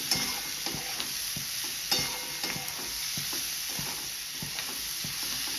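A vegetable seasoned with salt is stir-fried in a pan, a continuous sizzle broken by repeated scraping and tossing strokes of a spatula, close and without talk.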